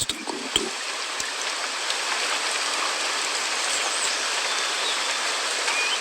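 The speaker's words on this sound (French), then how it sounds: "Assoiffé, le jeune Carcharodontosauridé distingue la présence d'un cours d'eau." Running water from a stream flows steadily and fairly close, a continuous even rush with a few small splashes near the start.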